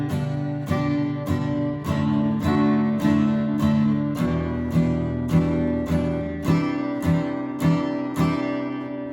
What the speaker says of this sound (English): I'm going to teach you a strumming pattern, and it's going to be just down strums